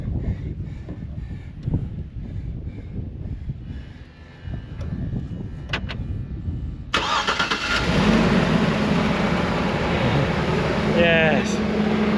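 A GMC Yukon cranks and fires after a fuel pump repair, its engine catching partway through and settling into a steady idle, with people talking over the cranking.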